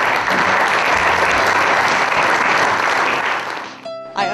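Audience applause fills an annual meeting hall of a Jewish Federation community gathering, a loud sustained clapping from a large crowd that holds steady for several seconds before quickly dying away.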